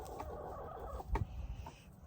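Chickens clucking around a farm chicken coop, a steady murmur of soft clucks with one louder squawk near the middle, fairly close, with no talking.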